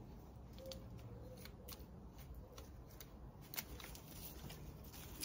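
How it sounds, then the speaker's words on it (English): Scissors snip ivy stems for a plant gift basket, giving a series of faint, crisp clicks and cuts spaced irregularly over a quiet room background. "So you can snip it off"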